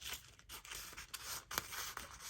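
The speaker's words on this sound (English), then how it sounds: "I think I'll just cut it over here." Scissors snipping thread or fabric at a stitching project, a few soft, close cuts and rustles at an uneven pace over a faint hiss.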